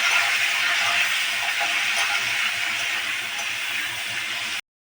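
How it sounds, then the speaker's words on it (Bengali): Cauliflower pieces frying lightly in oil in a home kitchen pan, a steady loud hiss and crackle of sizzling that holds evenly and then cuts off abruptly near the end. "একটু ভেজে নিচ্ছি হালকা করে, ভেজে নিচ্ছি ফুলকপিগুলোকে হালকা হালকা"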